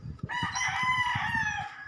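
Large chickens in a small backyard coop, with one rooster giving a loud, drawn-out crow close by while lower clucking and scratchy fowl noises continue underneath.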